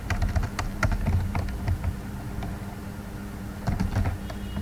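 Code is typed on a computer keyboard in quick, irregular bursts of crisp key clicks, with a short pause in the middle before the tapping picks up again. The typing is close and moderately quiet, and no one speaks.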